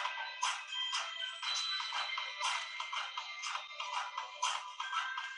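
A phone ringtone plays alone, a bright repeating electronic melody pulsing in a steady rhythm for several seconds at moderate volume during a step workout.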